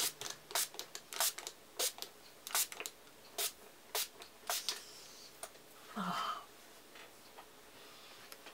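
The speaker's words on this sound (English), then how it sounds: "Now, here we go with the Silk Elements Mega Silk Olive Heat Protective Spray." Silk Elements Mega Silk Olive heat protective spray bottle pumped onto hair before a blowout, giving a run of short, sharp spritzes in an uneven rhythm, close and fairly quiet, with a brief faint voice sound partway through.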